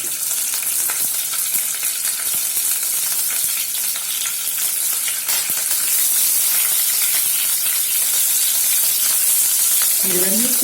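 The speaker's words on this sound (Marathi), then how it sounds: "तडतडूया जिरे मोहरी व्यवस्थित झाले" Cumin and mustard seeds crackle and pop steadily in hot oil in a pan while a spiced cabbage sabzi is made, giving a dense, continuous close sizzle with no talking.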